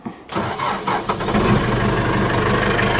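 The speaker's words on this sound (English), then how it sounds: "Let's get this tractor started up." A tractor engine cranks and catches, then settles into a steady, loud mechanical running rumble close by.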